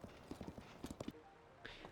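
Horse hooves clip-clop in the video game Zelda Tears of the Kingdom, a quick run of light rhythmic hoofbeats for about a second, then quieter game ambience with a brief chime.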